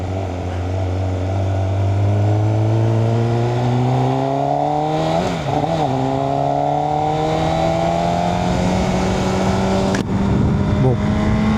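A 200 hp MV Agusta motorcycle engine on its stock exhaust pulls hard through the gears, its loud, smooth tone climbing steadily in pitch, with a brief dip mid-run, heard close from the rider's position.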